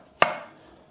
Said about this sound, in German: Die Champignons viertel ich und dann schneide ich ein bisschen